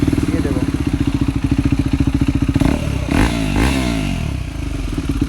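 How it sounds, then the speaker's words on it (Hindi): KTM Duke 390 motorcycle fitted with an SC Project CR-T exhaust idling close by in a loud, rapid thumping rhythm, then revving up with rising and falling sweeps, with talk partly over it. "SC में पूरा बेसी साउंड आ रहा है।"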